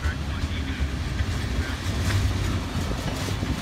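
A Norfolk Southern freight train, NS221, rumbles past with a steady rolling roar and rail noise throughout, fairly close and continuous, with a voice speaking briefly over it.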